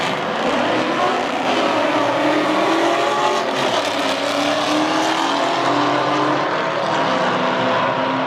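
Loud, continuous engine roar of street cars, including a Mach 1, racing at Las Vegas Motor Speedway, a steady droning rumble with rising revs, close and sustained throughout.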